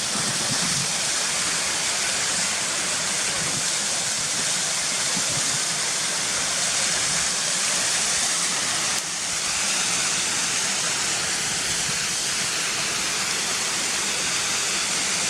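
Ashgill waterfall roars as a constant, dense wash of falling water, steady and unbroken from start to finish with no voices present.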